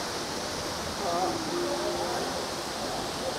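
A man-made waterfall beside a cafe gives a steady, broadband rush of falling water that stays constant throughout, with a faint voice briefly audible beneath it.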